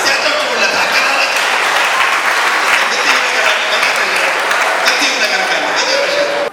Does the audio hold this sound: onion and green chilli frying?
no